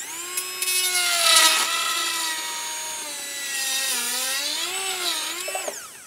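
A dental burr grinds into an acrylic denture at chairside while preparing space for a Saturno attachment. It makes a high, continuous whine that slides up and down in pitch as pressure changes, close and fairly loud.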